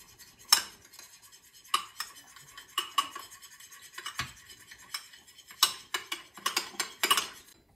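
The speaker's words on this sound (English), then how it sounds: "we're gonna just mix and combine the ingredients" A spoon stirs pumpkin donut ingredients in a bowl, giving a run of uneven clinks and scrapes against the side, close and fairly quiet, with no talking.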